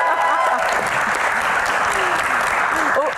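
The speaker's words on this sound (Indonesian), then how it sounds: "Tepuk tangan." Sustained, loud applause from an audience at a Q&A event fills the clip, with faint voices mixed beneath the clapping.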